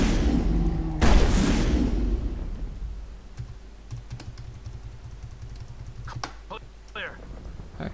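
Gunfire in the Mass Effect shooter, a loud burst near the start followed by scattered sharp shots and clicks, heard alongside keyboard typing and talking.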